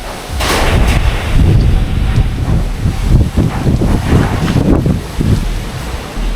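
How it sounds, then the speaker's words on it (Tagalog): Strong wind buffets the microphone in loud, rumbling gusts that roar continuously throughout, outdoors beside a field. "malakas yung hangin"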